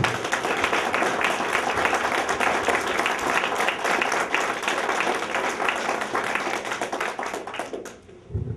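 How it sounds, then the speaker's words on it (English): A crowd applauds a World War II veteran being honored, dense clapping filling the room steadily and loudly for several seconds before tapering off near the end. "let's give her a round of applause, please"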